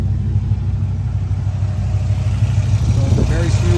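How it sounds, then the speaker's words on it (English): Hennessey-tuned 2005 Dodge Ram SRT10 pickup with a V10 engine and manual transmission idling, a smooth, steady low rumble heard up close and continuous throughout. "So it's a very smooth idle. V10 obviously, lots of cylinders for a smooth idle."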